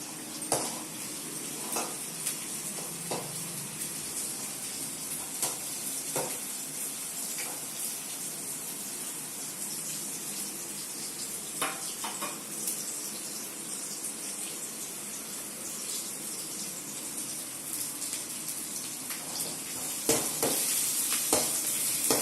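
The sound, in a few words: onions sautéing in a pan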